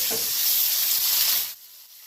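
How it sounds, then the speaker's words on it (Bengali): Katla fish pieces frying in hot oil, a loud close hissing sizzle that cuts off abruptly after about one and a half seconds, leaving faint background. "মাছগুলো তুলতে নিলাম, এইরকম লাল লাল করে ভেজে নিতে হবে।"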